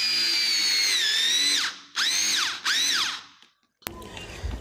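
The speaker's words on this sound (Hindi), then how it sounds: "इसमें हम जो ड्रिल से बिट कर रहे हैं 35 mm की, मैंने लगभग इसमें 4 सूत के आसपास की गहराई का ओल कर दिया।" A power drill with a 35 mm bit bores into a 19 mm cabinet door, whining loudly in three bursts that sag in pitch as the bit bites, then cuts off, followed by a brief clatter.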